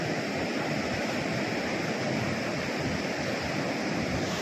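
Loud, steady rushing water roars continuously, like a swollen flood stream flowing hard, with broadband wash and no voices.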